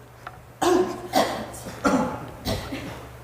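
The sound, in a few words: loud cough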